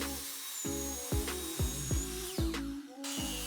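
A hardwood board has an edge squared up, a close continuous machine drone broken by regular rhythmic pulses about twice a second.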